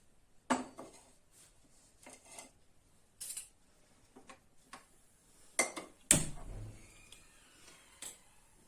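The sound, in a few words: frying pan placed on gas stove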